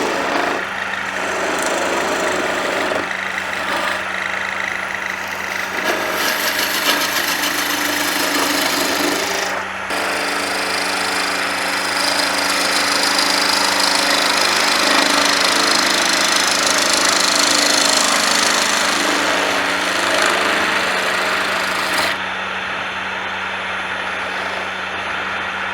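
A wood lathe turns a wooden goblet while peeling cuts remove wood, giving a loud, continuous motor hum under a steady rushing scrape of the tool that shifts in intensity and eases near the end.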